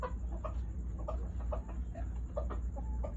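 A fighting rooster clucks close by in short, repeated low calls scattered across a steady background hum, with no one speaking.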